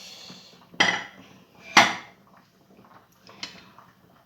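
Rice salad with corn being mixed in a bowl, a few sharp clinks of a utensil against the dish spaced about a second apart, close and alone.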